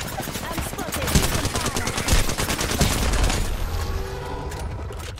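Rapid automatic gunfire in an Apex Legends match rattles in dense bursts, loud and close, with booming shots and mechanical clatter alongside game voice lines.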